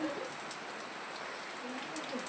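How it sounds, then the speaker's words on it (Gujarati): Heavy rain pours down steadily, a dense continuous hiss of drops drumming on surfaces, with no voices. "અને વરસાદ આવી ગયો હે ધડાધડી"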